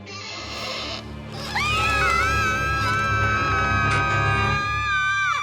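Loud, high-pitched squealing cries from cartoon ponies rise and hold over a dense background of excited noise, sustained and piercing throughout.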